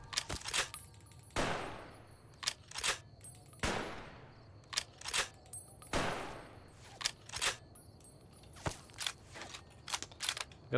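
Repeated gunfire with incendiary rounds in Fallout: New Vegas, sharp bursts and single shots each trailing a long, hissing decay, spaced irregularly across the stretch over a low game hum.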